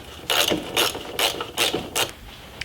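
A hand ratchet turns the vacuum canister bolts on a Jeep XJ, five crisp clicking bursts in a steady rhythm, close and loud with no talk.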